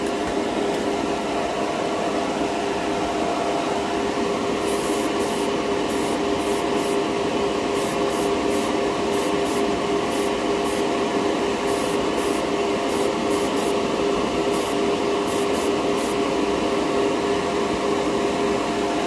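A Harder & Steenbeck Evolution 2-in-1 airbrush sprays paint with a steady hiss of atomizing air throughout, joined midway by a series of short, sharp bursts as the trigger is worked.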